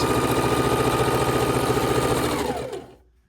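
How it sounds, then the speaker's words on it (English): A sewing machine stitches quarter-inch seams on blue and black quilt half square triangles cut from 5-inch charm squares, running in a steady fast whirring rhythm for nearly three seconds before slowing and stopping. "I'm going to sew the rest of our half square triangles in blue and black together."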